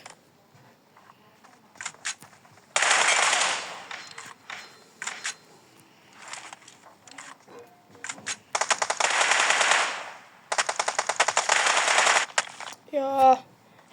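Sustained bursts of automatic machine gun fire in PUBG Mobile, loud and close, coming in long rattling volleys with short gaps and scattered single shots between them, over a faint background of player voices.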